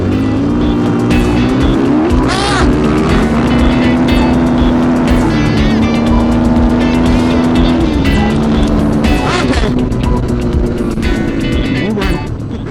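Suzuki DRZ400 and Beta dual sport motorcycles drag race on local dirt, their engines revving loud and close without a break, pitch climbing and dropping through gear shifts.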